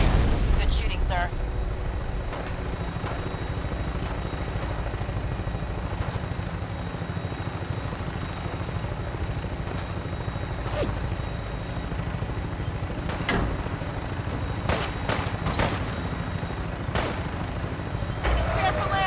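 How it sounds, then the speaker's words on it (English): Vertibird helicopter from Fallout 4 taking off, a loud steady rotor and engine roar filling the whole stretch, with occasional sharp bursts and radio voice chatter over the top. "Instrument speed officer. Green for takeoff."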